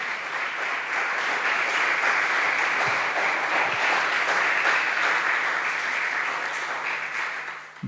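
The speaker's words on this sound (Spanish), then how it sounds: "Dale un fuerte aplauso al Señor." Congregation in a Spanish-language church service giving a sustained round of applause to the Lord, dense continuous clapping filling the space for several seconds, close and loud, with no speech over it.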